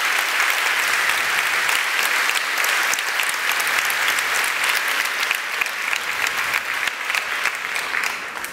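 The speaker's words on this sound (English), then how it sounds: "let us give you a round of applause" An audience at a nursing festival applauds warmly in steady, dense clapping that holds for several seconds, close and loud, with no speech over it.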